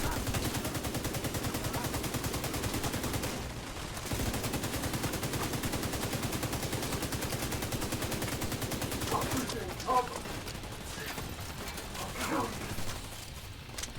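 Rapid automatic gunfire from a Rager weapon in a shooter video game, a dense, loud, continuous stream of shots that pauses briefly, resumes, then breaks into scattered bursts and effects near the end.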